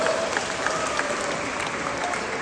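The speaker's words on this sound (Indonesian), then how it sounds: "Tepuk tangan untuk beliau." An audience at a large family Christmas celebration applauds, a sustained, even roar of many hands clapping with faint crowd murmur underneath, filling the whole stretch.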